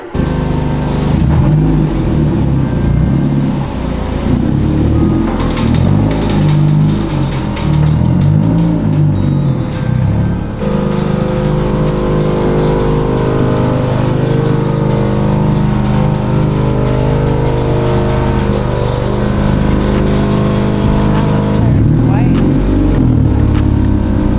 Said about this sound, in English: I'm gonna put the Civic on here.